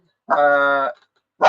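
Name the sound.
dog barking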